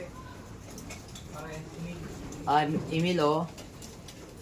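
A pigeon in a loft gives soft, throaty coos, a couple of short bursts near the mic, while a person speaks briefly in the background.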